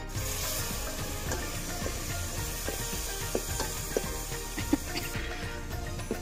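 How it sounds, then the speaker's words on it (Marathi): Homemade masala paste roasts in oil over a village wood-fired stove for mutton curry, a steady dense sizzle with scattered pops and scraping stirs throughout. "तेलामध्ये तो वाटण मस्तपैकी असं भाजायचं"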